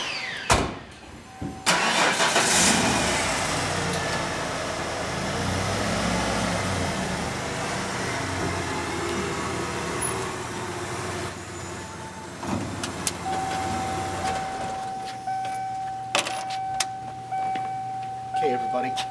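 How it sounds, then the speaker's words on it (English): A 1996 Ford F150 Eddie Bauer pickup's 6-cylinder engine turns over and idles with a steady rumble, rising briefly as it revs and pulls out of a garage, followed by clunks and faint movement. "I'm going to pull this truck out of the garage"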